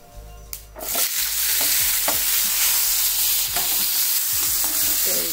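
Loud, steady sizzling of onion, tomato, curry leaves and garlic frying in a pan, with intermittent scraping and stirring clatter, close up and continuous.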